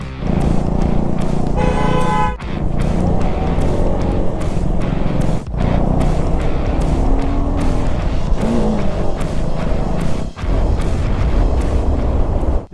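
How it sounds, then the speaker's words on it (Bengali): A group of 18 motorbikes riding together on a hill road near the Pashupati border gate: a loud, continuous engine roar with heavy wind buffeting, a few brief dips in level and one rising engine whine, with no clear talk. "18খানা বাইক এবার একসাথে পাহাড় কাঁপাবে।"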